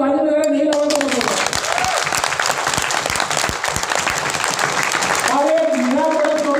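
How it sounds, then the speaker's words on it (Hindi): Audience applause fills a hall at a performers' meet during a motivational speech, a dense burst of many hands lasting about four seconds. A voice is heard just before it starts and again as it fades. "अगर आपको अच्छा लग रहा है तो ताली बजाएं"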